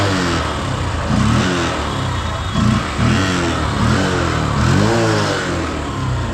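A second-hand motorcycle engine runs at a used bike dealer, a steady close rumble with repeated throttle blips rising and falling every second or so, loud and without talk.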